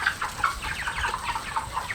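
Pasture-raised chickens cluck steadily near their field shelters, a dense overlapping chorus of short calls from several birds with no pauses and no voices.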